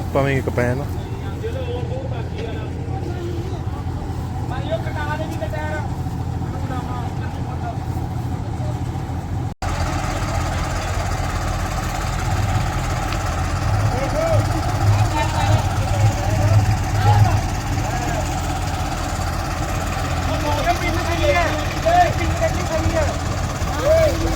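A heavy 850 tractor engine rumbles steadily throughout, its tone shifting slightly as it works, with people talking over it.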